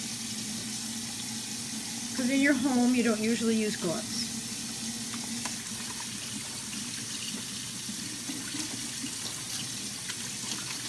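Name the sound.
water running from sink tap while washing hands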